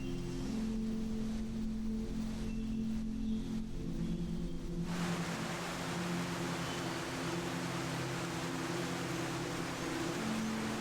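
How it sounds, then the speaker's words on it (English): A river rushes and tumbles over stone through misty Appalachian forest, a steady broad wash of water that grows fuller and brighter partway through, with a low drone underneath and no voices. "the sound of rushing water, a river begins its long and tumbling descent through stone and mist"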